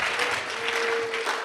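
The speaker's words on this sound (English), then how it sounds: "He deserves a larger round of applause than that." A live audience at the American Atheists 2019 Convention applauds in a steady, dense burst of clapping that fills the room for the whole moment, with no voices standing out.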